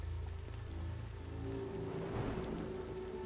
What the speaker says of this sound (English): it's just like ambient noise, it's just raining or whatever